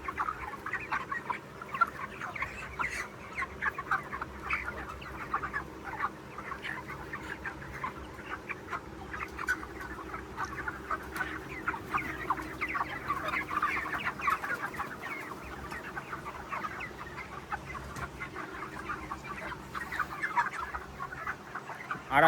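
A flock of chickens on a village poultry farm clucks continuously, many birds murmuring and calling together in a steady, busy chorus at moderate distance, with no talking.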